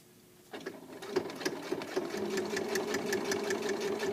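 A sewing machine stitches a straight seam in fabric, whirring steadily and close after a quiet start, its rapid needle rhythm holding even throughout.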